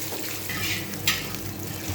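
Spices sizzle in a pan of hot oil with raisins for a banana-stem and paneer curry, a steady close hiss with a brief louder crackle partway through.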